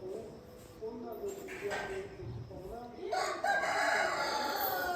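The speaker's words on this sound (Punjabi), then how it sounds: "ਮੁਰਗੇ ਬਾਂਗਾ ਵੀ ਦੇਣ ਲੱਗੇ ਗਏ" Roosters crow at dawn, one call then a louder, longer one close by, over a quiet dairy farmyard background with a few clucks.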